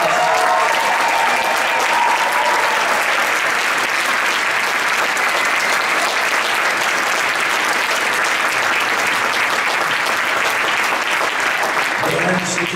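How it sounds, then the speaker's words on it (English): Loud, sustained applause and cheering from a school concert audience at a high school pops and jazz show, a thick continuous roar of clapping that holds steady throughout. "Let's give her another round of applause"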